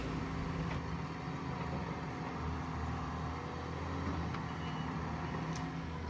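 Skid steer smoothing a pond embankment, its engine a steady low droning hum with faint intermittent clanks and beeps, continuous and moderately close.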